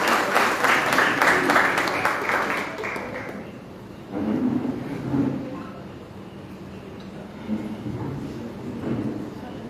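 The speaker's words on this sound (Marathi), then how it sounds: "तुम्ही परत टाळ्या वाजवून स्वागत करते" An audience at the Deep Vaibhav 2026 club event of Samrat Club, Corlim, Goa, claps to welcome club members, a short burst of applause that fades within a few seconds before voices and crowd murmur take over.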